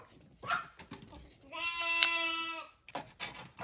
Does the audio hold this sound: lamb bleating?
yes